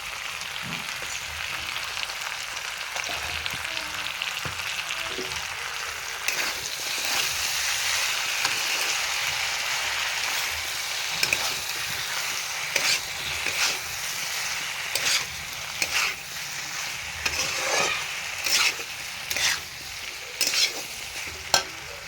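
Drumstick and potato curry frying with mustard paste in a pan, a continuous loud hiss and crackle that runs throughout, with more frequent clattering stirs and scrapes in the latter half.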